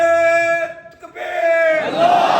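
At a religious gathering, a single loud voice leads the Naara-e-Takbeer slogan with a long, sustained call, and a crowd answers near the end with a rising, rough roar.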